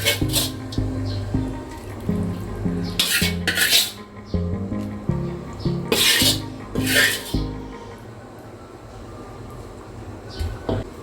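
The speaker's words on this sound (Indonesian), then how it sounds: "Lalu kita aduk-aduk" A spoon scrapes and clinks against a pot as chicken soup is stirred, with rhythmic metallic rasps repeating through the stretch, close and fairly loud, over low background hum and faint music.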